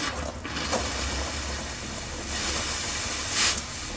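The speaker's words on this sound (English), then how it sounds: "I'm just going to run compressed air through it in the same way that I ran the solvent through it" Compressed air hisses through a flushed-out transmission cooler in steady broadband bursts, with a stronger rush near the end, close and loud with no talk.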